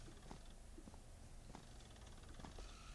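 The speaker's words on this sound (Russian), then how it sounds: "Или кто-то храпит, судя по звуку." Low, rasping snore-like rumble from the video game The Twins, a steady purring drone repeating in soft breaths at a quiet, even level with no talking.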